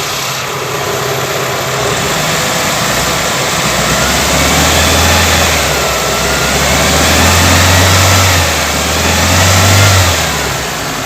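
A Toyota Corolla twincam liftback engine, apparently in good condition, is revved steadily, rising in a couple of smooth swells over a continuous idle drone; close and loud, with no talking.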